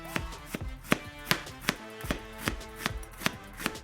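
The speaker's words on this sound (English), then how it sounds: "Let's start by thinly slicing our red onions." A knife thinly slices red onion on a cutting board, about nine crisp, evenly spaced cuts landing close and clear with quiet gaps between them.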